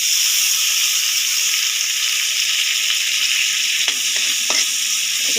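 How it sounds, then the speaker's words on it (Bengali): Ginger-garlic paste with tomato being stirred and fried in hot oil, a close, steady sizzle throughout, with a few light scrapes and knocks of the spoon against the pan near the end. "এটা একটু তেলের মধ্যে নেড়ে নিলাম যাতে এটা ভাজা ভাজা হয়ে যায়।"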